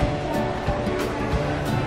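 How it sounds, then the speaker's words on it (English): Water from a waterfall outside Disney's Wilderness Lodge resort at Walt Disney World rushes in a steady, broad roar, fairly close and constant, with no clear voices over it. "a waterfall outside our resort"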